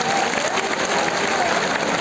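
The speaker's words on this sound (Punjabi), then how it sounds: "ਉਹਨਾਂ ਲਈ ਸਾਡੀਆਂ ਭੈਣਾਂ ਦੇ ਨਾਲ ਤੇ ਜ਼ੋਰਦਾਰ ਤਾੜੀ ਹੋਣੀ ਚਾਹੀਦੀ ਆ" A crowd at a farmers' protest gathering at the Singhu border claps in a continuous, dense, fairly loud round of applause, with some crowd murmur mixed in.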